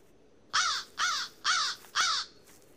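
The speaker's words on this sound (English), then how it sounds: "Damn freaking bird." A crow caws in the dinosaur horror video game Tempus Triad: four loud, harsh caws, evenly spaced about half a second apart, standing alone over a quiet background.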